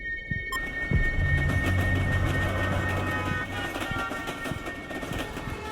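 A train rumbles on rails in the background of a played-back recording, a steady low mechanical drone with sustained tonal whine and clattering texture, moderately loud and continuous.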